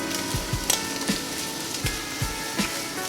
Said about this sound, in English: I'm gonna let that cook for about 30 seconds, popping. There's a lot of fat inside the salmon.